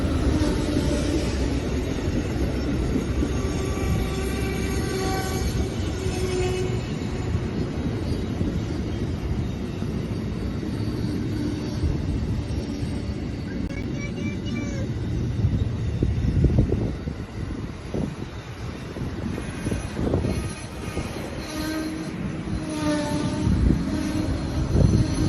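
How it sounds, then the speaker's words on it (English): An Amtrak passenger train led by locomotive 108 rumbles past at steady volume, with a broad rolling roar and wind buffeting on the microphone, swelling a little louder toward the end with no talking. "Next we see P048 with Amtrak 108 leading."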